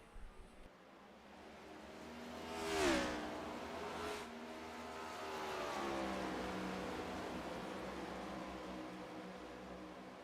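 Next Gen stock cars racing at Phoenix in the iRacing simulator: a rising engine whine sweeps past around the third second, followed by a second pass and a lingering roar of further cars fading in and out, with no talk.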